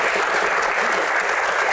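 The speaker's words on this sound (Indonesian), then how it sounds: "tepuk tangan." Audience applause at an Indonesian comedy Q&A show, a dense, steady wash of clapping from a crowd, loud and continuous throughout the short burst with no voices on top.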